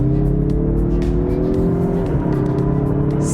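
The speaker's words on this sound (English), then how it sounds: "that sounds awesome for an inline 4-cylinder. No gimmicks, pure engine noise." Turbocharged inline four-cylinder engine of a 2024 Mazda CX-30 Turbo with all-wheel drive accelerating hard up an on-ramp, a loud rising engine note heard from inside, with a shift-like dip and recovery partway through.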